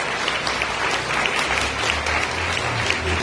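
Church congregation claps in welcome, a dense, steady wash of applause filling the whole moment with no voice over it.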